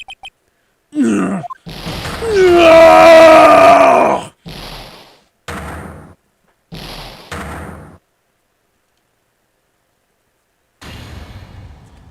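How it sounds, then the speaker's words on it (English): Von Karma from the Phoenix Wright courtroom video game lets out a long, loud, wavering scream, preceded and followed by short sharp in-game effect bursts with silences between. "That scream. I've heard that scream before."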